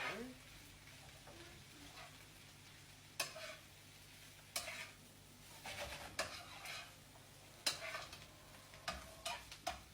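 Green curry fried rice with filet mignon is tossed in a hot pan, giving a faint steady sizzle under intermittent stirring scrapes and spatula knocks that come in irregular bursts.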